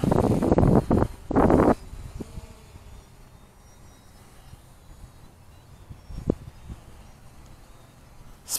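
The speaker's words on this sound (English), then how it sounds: "It's a little bit windier than the last time we were out here." Gusty wind buffets the microphone during a drone flight over a river on a hazy day, with two loud rumbling bursts at the start and then a steady low roar with an occasional thump.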